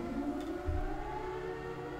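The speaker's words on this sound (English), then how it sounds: "Oh, there goes the siren." A civil defense style siren wails steadily in the video game Siren, a sustained droning tone held over a low rumbling background, with no talk.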